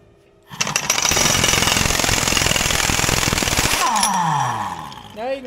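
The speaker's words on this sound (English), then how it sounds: "Now you can go home and tell your girlfriend that you took off a 2 3/8 nut, Mason." A loud, sustained rattling hammer of an impact tool runs for several seconds removing a 2 3/8 inch nut on a Cat D7F dozer, then cuts off, leaving fading whirring and a short voice at the end.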